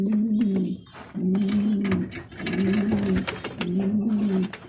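Roller pigeons in a breeding loft coo in repeated low, throaty phrases, four rolling bursts with short gaps, close by, with faint background chatter between them.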